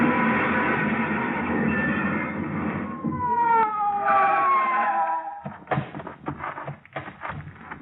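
A wailing police car siren in an old-time radio detective drama, rising and falling in long sweeping tones over engine rumble, then giving way to clattering thumps and scuffling near the end.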